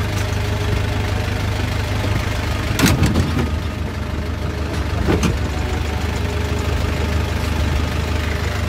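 A Kia K165 light truck engine running at idle, a steady low rumble throughout with two brief louder bursts of clatter partway through.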